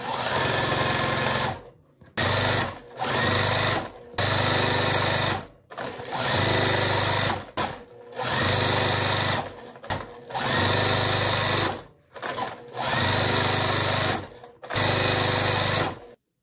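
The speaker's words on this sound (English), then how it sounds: "So what I'm gonna do now is put it together and sew." A sewing machine stitches quilt block pieces together in loud, steady bursts of motor whir, each run lasting a second or two and broken by short pauses, with no talking.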